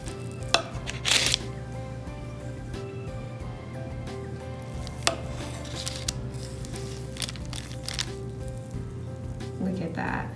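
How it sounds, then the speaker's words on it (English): A knife slices through a moist strawberry basil olive oil cake, giving soft scraping and cutting noises with a few crisp clicks, set over a steady background hum. "let's cut a slice here"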